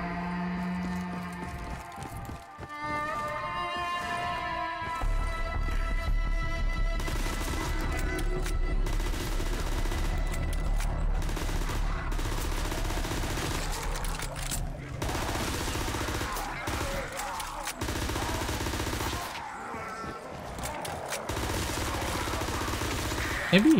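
Nonstop automatic gunfire in Black Ops III Custom Zombies, rapid shots hammering without a break, loud and close, with game music and effects layered beneath and a voice speaking at times.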